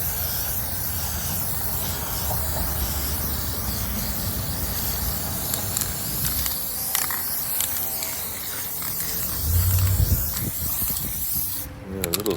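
A spray paint rattle can hisses steadily and close while coating an electric guitar body, a broad continuous spray that holds for most of the stretch, swelling slightly near the end, with no speech.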